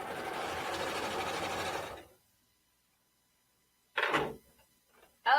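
A sewing machine stitches fabric in a steady, rapid whirring run of about two seconds, then stops; after a silence comes a brief second burst and a short knock.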